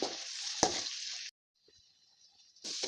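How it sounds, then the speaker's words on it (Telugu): Tomatoes frying with ginger garlic paste in oil for an egg masala curry, a loud steady sizzle broken by a sharp stir clank, then near silence before the hiss returns. "కట్ చేసి మూడు టమాటాలను వేసి మళ్ళీ బాగా ఫ్రై చేయండి"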